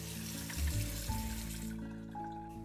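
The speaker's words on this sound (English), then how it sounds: "Drain and rinse them with cold water." Cooked wheatberries being rinsed under cold tap water, heard as a steady, soft stream splashing into a sink, with a few brief clunks near the start before the flow settles.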